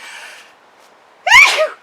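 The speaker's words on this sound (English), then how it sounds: "I'm going to sneeze." A single sharp, loud sneeze bursts out close by, preceded by a soft, breathy intake.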